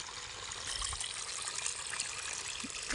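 Irrigation water flows into a paddy field plot, a continuous trickling and gurgling stream heard alone at moderate loudness.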